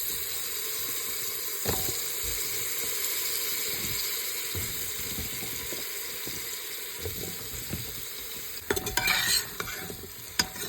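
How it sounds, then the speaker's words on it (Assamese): Chopped bottle gourd fries in a pan with turmeric, giving a continuous soft sizzle under occasional stirring taps, then a busier clatter of utensil against pan near the end. "এতিয়া ইয়াতে দি দিম কাটি লোৱা জাতিলাওখিনি"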